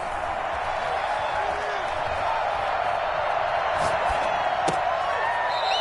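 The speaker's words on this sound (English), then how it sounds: "This home crowd, they're happy with that call." A home crowd at a football game cheers and roars steadily, with whoops and a few sharp accents rising above the dense, continuous crowd noise.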